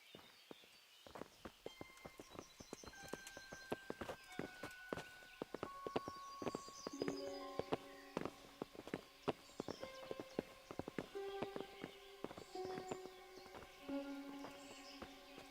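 Horses' hooves clip-clop in a steady walking rhythm in the medieval game Kingdom Come: Deliverance, close and fairly loud, with sustained tonal music running beneath the hoofbeats.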